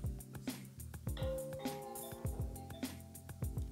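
An electronic doorbell chime plays a short repeating melody of bright tones, with a couple of soft clicks, fairly close and moderately loud.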